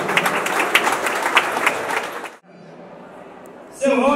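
A crowd claps at a samba school tribute night, a burst of applause that cuts off abruptly midway, followed by a quiet lull and then a voice speaking.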